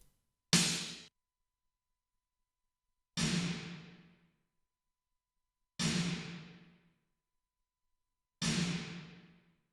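Four Korg drum machine hits, filtered and run through a hall convolution reverb, each struck cleanly and followed by a smeared reverb tail, evenly spaced and alone, with the first hit slightly louder.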